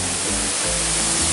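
Muara Jaya waterfall (Curug Muara Jaya) in Majalengka pours with a steady, loud, close roar of rushing water that fills the scene without pause and with no voices.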